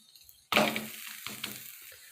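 Dhapate, a Maharashtrian spiced flatbread, bursts into a bright, loud sizzle on a hot griddle as oil goes on and the bread is flipped, then the hiss settles into a softer crackle.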